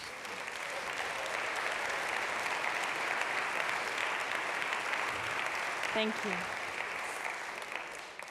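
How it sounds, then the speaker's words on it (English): Sustained applause fills a conference hall at a talk about the steward-owned company Ecosia, steady dense clapping from a large audience, with a speaker briefly saying something near the end. "we're applauding Ecosia"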